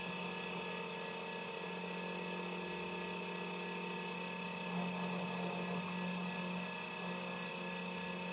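A milling machine cuts a recess into a full wooden frame for a model ship's aft ladderway, giving a steady whining drone with a low hum that swells slightly midway, continuous and fairly close.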